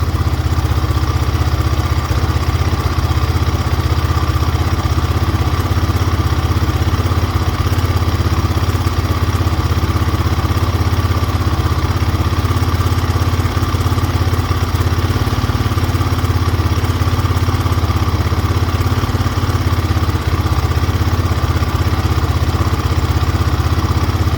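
A GPX Moto FSE 250E single-cylinder motorcycle engine idles steadily after a carburettor adjustment, a loud, close, even drone that stays consistent for the whole stretch with no voices.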